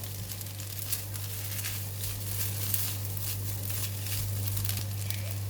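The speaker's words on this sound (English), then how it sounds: "Just continue to fry for about 1 minute until all the ingredients is mixed well and the rice is warm" Egg fried rice sizzles and crackles in a hot pan, a steady frying hiss with small crisp pops and stirring scrapes, close and continuous over a low electrical hum, no voices.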